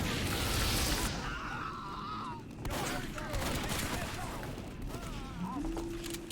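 Rapid shotgun blasts from a Pyro's novelty shotgun in the video game Team Fortress 2, mixed with other in-game gunfire, honking effects and busy match noise, all dense and continuous throughout.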